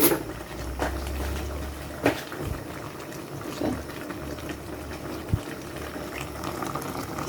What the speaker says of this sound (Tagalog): ayan na guys, kumukulo na